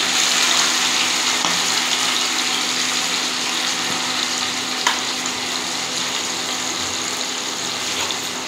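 Hilsa fish frying in hot oil in a wok with ginger, cumin and pepper paste nearby, a steady dense sizzle that runs unbroken and fairly loud, with a couple of faint clicks.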